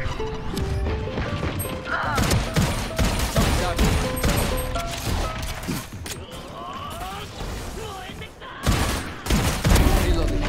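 Repeated gunfire in Valorant shooting through a wall, dense bursts of shots and impacts packed across the whole stretch amid game effects, with voices talking over it.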